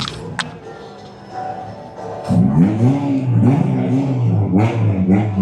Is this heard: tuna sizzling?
no